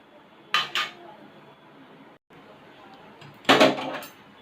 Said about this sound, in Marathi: आता मी याच्यावर झाकण ठेवते